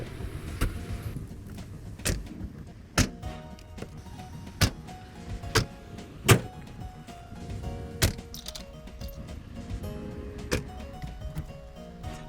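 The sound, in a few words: car driving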